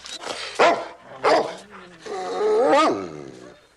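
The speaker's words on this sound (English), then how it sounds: "You keep that howling up all night." Bird dogs howl and bark in short, loud bursts close by, rising into a long wavering howl near the end.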